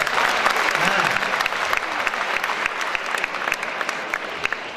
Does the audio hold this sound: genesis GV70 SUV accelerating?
no